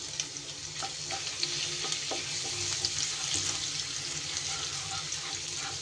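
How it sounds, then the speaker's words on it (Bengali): A bay leaf and whole garam masala fry in hot ghee and oil, giving a steady, soft sizzle with faint crackles throughout and a few light clinks. "ঘি আর তেল গরম হয়ে গেলে ফোড়নে দিয়ে দিচ্ছি একটা তেজপাতা, আর দিয়ে দিচ্ছি একটু গোটা গরম মশলা।"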